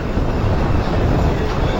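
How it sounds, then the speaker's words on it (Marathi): A metro train rolls slowly along, heard as a loud, continuous low rumble and roar without distinct clacks. "एकदम स्लो आरामात चालले मेट्रो."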